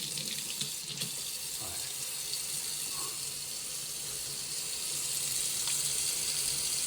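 Kitchen tap running steadily into a sink while a wound is scrubbed with soap, a faint continuous splashing hiss with small knocks and movements, no voices.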